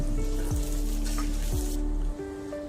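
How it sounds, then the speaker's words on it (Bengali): Potatoes frying in oil in a home kitchen give a constant close sizzle with a low background hum, and the sound drops in level near the end. "পটলগুলোকে একটা গামলার মধ্যে তুলে নিয়ে আলুগুলোকে আবার একটু ভেজে নিন।"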